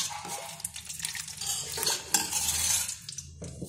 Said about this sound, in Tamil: சர்க்கரையை அதனுடன் போட்டு கலக்க வேண்டும்.